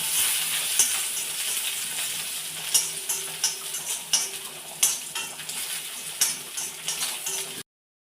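Onion and curry leaves fry in a pan with a steady, bright sizzle, broken by repeated scrapes and clinks of a spoon stirring against the metal, close and fairly loud before stopping abruptly.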